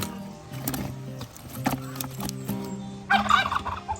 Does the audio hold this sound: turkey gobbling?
yes